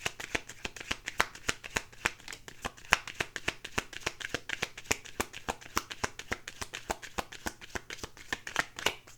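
Tarot cards shuffled close by in a dense, rapid stream of crisp flapping riffles that continues evenly throughout, with no talking.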